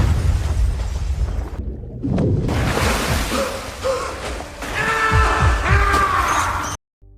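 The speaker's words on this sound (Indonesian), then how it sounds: "Hal ini menyebabkan basement itu pun meledak." A gas-fed basement explosion in an action film erupts with a heavy roaring boom and rumbling debris, loud and sustained for several seconds before cutting abruptly to silence.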